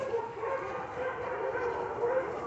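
Several happy dogs bark and yip continuously at close range, a busy overlapping chorus of bright, excited calls.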